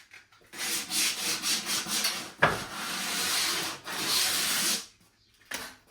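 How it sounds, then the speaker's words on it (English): Sandpaper rubbed over rough wooden edges of workshop offcuts for a French cleat wall, long scratchy strokes in a steady back-and-forth rhythm, close and fairly loud, with a sharp knock midway and a short final swipe. "a little bit of sandpaper just to remove the rough edges"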